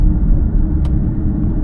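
Constant low rumble from inside an SUV on the move, with a faulty rear differential droning from the back, fairly loud and steady with the window closed, no voices.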